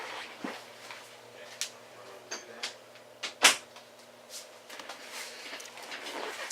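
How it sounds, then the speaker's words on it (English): An indoor door pushed shut lands in one soft thud among a few faint knocks and shuffles, quiet and close in a still room. "Let me close the door."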